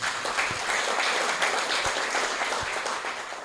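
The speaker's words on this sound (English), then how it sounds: "Can you give her another round of applause?" Audience applause at a luncheon on gender-based violence prevention, a continuous wash of clapping from a sizeable crowd, even and moderately distant throughout, with a few soft low thumps.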